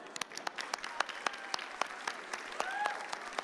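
Moderate audience applause at a school showcase event, a steady patter of many hands with a few sharper claps standing out, fairly distant and soft, with faint voices mixed in.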